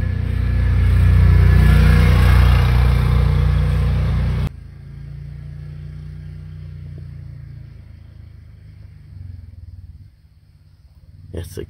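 A security patrol car drives back and forth near a parked car at night, its engine loud and close at first, then cutting to a quieter, steady rumble that fades further off.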